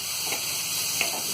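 Black pepper roasts in a pan for a veg momo filling, a soft steady sizzle close by with a couple of faint scraping stirs, and no talking.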